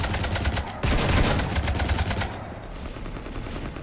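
Rapid automatic gunfire rakes a ship in the Mass Effect 3 Citadel DLC, a dense loud burst of shots that thins into a lighter rattling stream.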